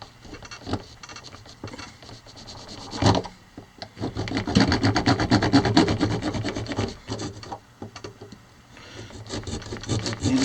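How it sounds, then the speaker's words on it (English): A Leatherman multi-tool saw cutting the tip off a trekking pole, rapid raspy back-and-forth strokes close by, scattered at first and then building into a steady, louder sawing rhythm. "So I've got a Leatherman here with a saw on it."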